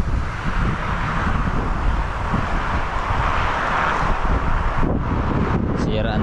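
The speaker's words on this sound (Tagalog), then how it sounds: "Lakas kasi ng hangin eh." Strong typhoon wind buffets a microphone in a rural garden, a steady broadband roar with gusty rumble throughout and a brief dip near the end, while a voice speaks faintly underneath.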